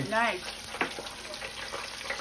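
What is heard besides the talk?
seitan pieces frying in a pan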